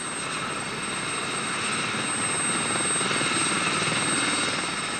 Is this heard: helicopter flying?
yes